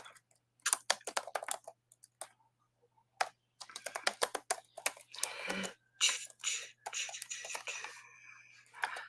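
Computer keyboard typing during a live jewelry auction stream, irregular bursts of close, crisp key clacks separated by pauses, with a short spell of quick rattling strokes midway.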